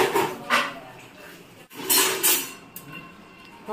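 Pots and dishes are scrubbed and washed by hand at home, with irregular clinks, rubs and knocks of metal and crockery rising and falling in short bursts over a quiet background.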